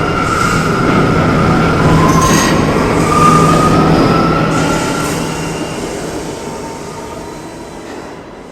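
A New York subway R179 train at 168th Street rumbles steadily with a faint whine of wheels on rail, loud and close, slowly fading toward the end.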